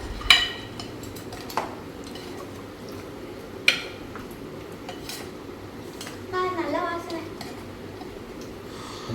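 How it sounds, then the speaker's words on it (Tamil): A ladle stirs meat curry in a home kitchen pot, giving a few sharp metallic clinks and knocks spaced apart, with quieter scraping and soft liquid squelches in between. "நல்லா கிண்டி விட்டுருவோம்."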